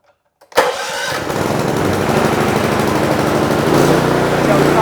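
A Predator small engine cranks on choke and catches after a brief silent lead-in, then runs steadily at a loud, rough, sputtering mid-pitched idle that carries through to the end.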